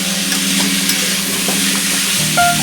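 Pumpkin and papaya pieces, seasoned with turmeric and salt, fry lightly in oil in a pan, giving a continuous close sizzle with a low hum beneath and a few faint clinks and scrapes.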